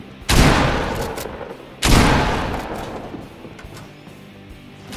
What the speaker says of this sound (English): Just shoot it and it will explode a few seconds later